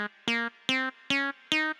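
Ableton synthesizer plays a minor scale for psytrance as a run of five evenly spaced, bright, buzzy notes. Each note has a sharp attack and a brief sustain, heard up close with no talking.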